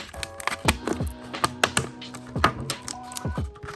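A sports card popped into a plastic card popper case, heard as a run of close, sharp clicks and taps from handling the case, irregular and fairly loud, with no speech.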